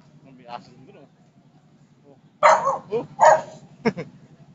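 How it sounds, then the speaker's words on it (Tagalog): A dog barks in a few sharp bursts close by at Bonifacio High Street, over a low constant hum, with people talking around it. "Nagalit yung aso."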